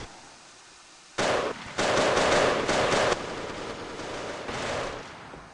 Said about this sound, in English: And we got a firefight here.